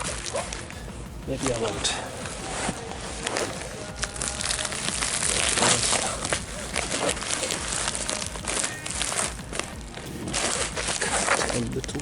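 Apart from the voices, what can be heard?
tearing and crinkling open packaging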